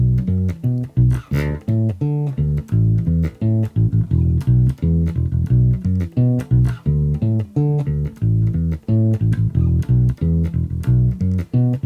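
The last six bars of a section on bass guitar, a busy line of plucked notes and quick fills in a steady groove, close and loud with no voices.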